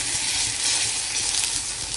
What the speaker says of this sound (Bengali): তেল গরম হয়ে গেছে, আর এর মধ্যে দেবো তেজপাতা, দারচিনি, লবঙ্গ, এলাচ আর সাদা জিরে ফোড়নে।